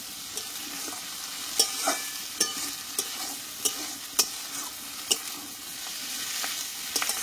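Potatoes being turned and fried in a pan of fish oil curry near the end of cooking, a soft steady sizzle punctuated by regular sharp spatula clicks against the pan, close and moderately quiet.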